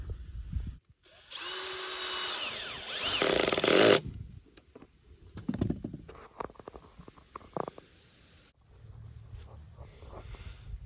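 A power drill drives screws through the overlapped seams of a stationary hunting blind, whirring loudly for about three seconds before stopping, followed by scattered knocks and handling clatter and a quieter low rumble at the end.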